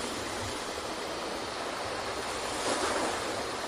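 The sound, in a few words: ocean waves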